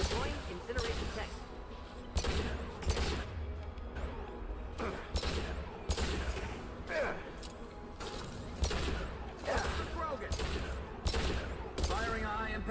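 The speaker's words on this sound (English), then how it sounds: "Firing a high impact shot." Shotgun high impact shots fire repeatedly in Mass Effect 2, a series of sharp blasts at irregular intervals amid game combat noise, with speech mixed in.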